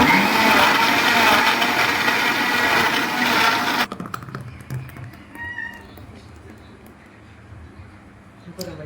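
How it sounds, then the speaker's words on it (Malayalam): A blender whirs loudly and steadily, mixing a lime milkshake with ice, sugar and milk powder, then cuts off abruptly, leaving quiet clatter and room sounds. "കറണ്ട് വന്നു ഗെയ്സ് നമുക്ക് ഷെയ്ക്ക് അടിക്കാമല്ലോ"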